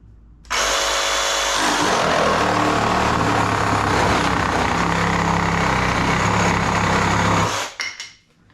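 A Ryobi reciprocating saw cuts with a loud, continuous buzzing motor roar right up close, starting abruptly, holding steady for about seven seconds, then winding down and stopping.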